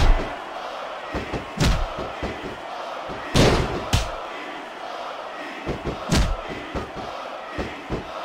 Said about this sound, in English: I can't remember the last time I've seen a crowd so pumped up.